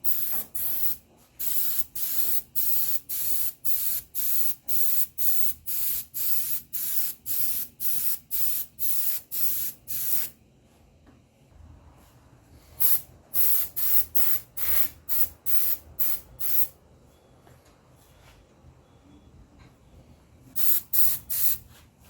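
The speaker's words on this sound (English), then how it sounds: "see if I can get some decent paint on here with the airbrush" Airbrush spraying thinned paint, about 30% paint to 60% thinner, onto a composite RC sailplane wing tip: a long run of short, regular hissing bursts, then a pause and a few more sprays in sparse clusters, close and alone.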